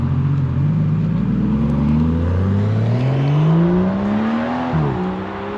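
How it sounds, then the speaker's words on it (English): A 2025 Aston Martin Vanquish V12 with a valved exhaust that bypasses the silencer revs up loudly nearby, its smooth rising tone climbing steadily before dropping sharply, with no talking. "you're always getting a nice V12 sound throughout the rev range, a nice uniform tone"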